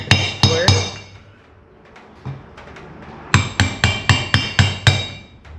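A hammer taps a Farmall H tractor PTO shaft square, with a few sharp metallic knocks, a pause, then a quick rhythmic run of about nine close, ringing taps.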